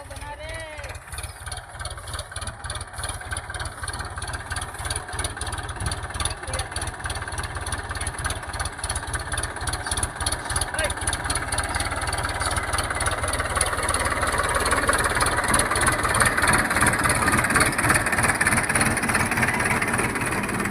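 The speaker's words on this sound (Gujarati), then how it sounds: "અમારા બંટીભાઈ ટ્રેક્ટર હાકે છે." A tractor engine chugs steadily with a rhythmic throb, running continuously and growing slightly louder, with faint voices in the background.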